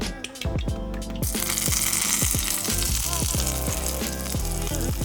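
Salmon skin fries loudly in a pan with a dense, continuous sizzle, heard under background music.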